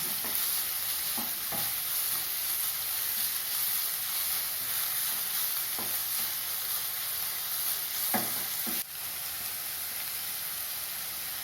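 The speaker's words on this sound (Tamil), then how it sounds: "வெங்காயம் வதங்கட்டும்." Sliced onions sautéing in a pan for aloo capsicum masala, a steady close sizzling hiss with a few scattered stirring scrapes, the sizzle easing slightly near the end.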